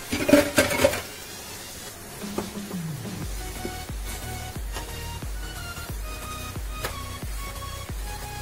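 Chopped parsley and tomato stirred into a filling for homemade Karamürsel simit dolması, with a loud clatter of utensils at the start followed by a steady run of spoon taps and scrapes against the bowl.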